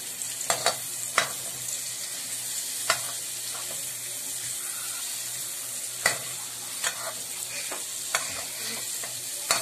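Onion and garlic frying in a pan, a steady close sizzle broken by occasional sharp scrapes and taps of a stirring utensil.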